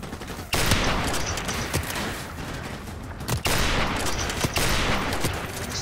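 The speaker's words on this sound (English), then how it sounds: "Stop freaking shooting!" Sustained automatic gunfire from a Call of Duty Modern Warfare Remastered match on PS4, loud and dense for nearly the whole stretch, broken by a brief gap before the rapid firing resumes.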